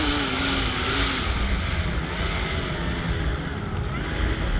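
A seaplane's engine running in reverse thrust while sitting on the water, a steady loud broadband roar with a low droning hum, constant and close throughout.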